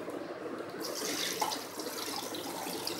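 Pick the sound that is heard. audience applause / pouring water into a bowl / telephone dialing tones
pouring water into a bowl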